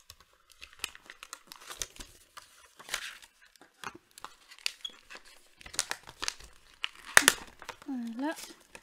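Pokémon card pack packaging crinkles and tape peels off in a run of close, irregular crackles and short tearing rips, with a louder rip near the end; the quiet handling carries no speech.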